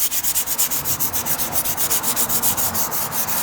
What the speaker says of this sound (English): Just kind of rolling the sandpaper.